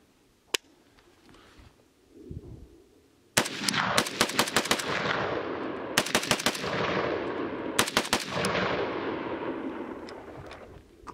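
A WASR-3 5.56 AK rifle firing at a shooting range, a single shot followed by several rapid bursts of sharp, loud cracks with ringing decay between strings, close to the shooter.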